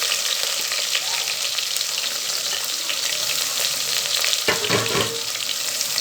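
Sliced onions dropped into hot oil with fried black cardamom pods hiss in a loud, continuous close sizzle, with a brief burst of clatter and crackle as they are added and stirred.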